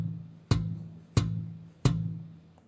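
Three pitchless ghost notes on a slap bass, each a sharp percussive thump spaced evenly about two-thirds of a second apart, close and dry with a low muted ring between hits.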